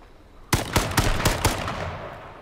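A burst of five or six sharp, loud gunshots rings out in rapid succession during an H1Z1 battle royale match, each crack trailing into a lingering rumble.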